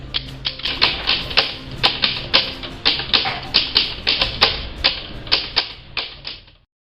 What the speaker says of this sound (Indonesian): naskah proklamasi yang sudah dibuat Soekarno-Hatta bersama pemuda langsung diketik oleh Sayuti Melik